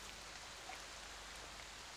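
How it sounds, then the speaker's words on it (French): A steady, soft patter of rain plays as an even ambient effect, hissing continuously at low volume with no voices over it. "Là, il pleut."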